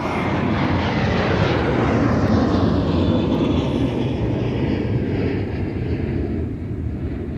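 A Delta airliner roars past at Minneapolis–Saint Paul airport, a loud, steady broadband jet engine rumble that stays strong throughout and eases slightly toward the end, with no voices.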